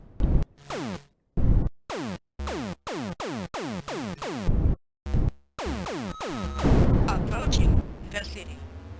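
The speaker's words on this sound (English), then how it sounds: "Loving the sound effects and the explosions." Rapid bursts of laser blasts and booming explosions from the Victory and Zektor retro arcade shooters, loud and close, in a choppy stop-start rhythm that builds into a dense roar of blasts near the end.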